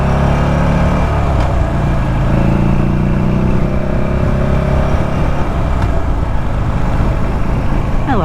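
Deep, steady engine rumble of a 2009 Buell Lightning XB12SCG motorcycle idling and lightly revving, loud and close throughout with no talking.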